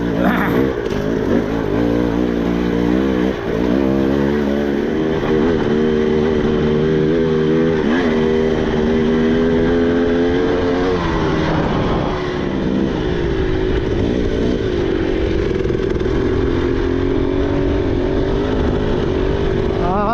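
A dirt bike engine revs loud and close in third gear at nearly 11,000 feet, its pitch rising and falling continuously through gear pulls for about twenty seconds.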